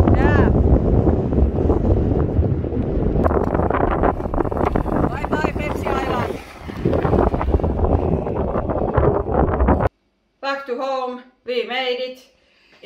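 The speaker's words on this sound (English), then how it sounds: "Really windy." Strong wind roaring across the microphone on a rocky, pine-covered island in a lake, a loud continuous buffeting rush that runs for about ten seconds and then drops out, followed by a few spoken words.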